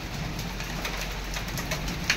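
Hailstones come down outdoors during a hailstorm, making a dense, steady patter and hiss that stays close and even throughout, with a few sharper impacts standing out.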